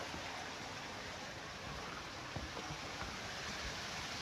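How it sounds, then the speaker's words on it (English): Steady rushing water fills the scene, a continuous broadband wash with faint splashes, spilling through rocky pools in the Mahoosuc Notch on the Appalachian Trail, echoing off rocks, with no voices. "there's pools of water. Water flowing down."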